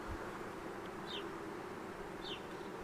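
Honeybees buzz around an open hive with a soft, constant hum, and a few louder bees pass close by.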